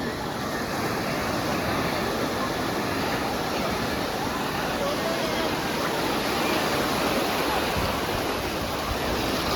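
Surf at Appikonda beach rolls in as a steady, dense wash of crashing waves, close and continuous, with a constant roar and no pauses.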